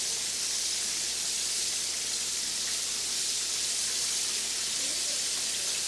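Steady, dense sizzling hiss of chicken wings frying in hot canola oil, constant and close throughout with no pauses.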